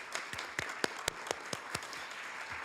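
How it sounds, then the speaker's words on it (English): Scattered applause from a few people at a Hayward city council meeting, roughly ten distinct claps spread over a few seconds, fairly faint and sparse in a quiet room. "if her colleagues want to give her a round of applause"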